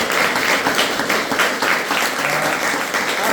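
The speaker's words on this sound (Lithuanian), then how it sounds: "didžiausia aplodismentai." A seated audience at a book launch applauds author Gaila Tindienė, the clapping warm, continuous and evenly sustained for several seconds with no one speaking.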